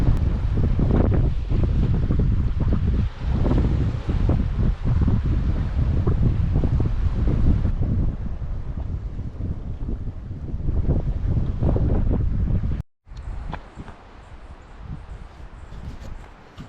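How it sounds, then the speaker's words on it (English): Gusty wind buffets the microphone beside choppy, bumpy water at a hot, blustery campsite. Loud roaring bursts dominate, then ease into a quieter wash of wind and water after a brief dropout near the end. "it's a little blustery here and the water is bumpy"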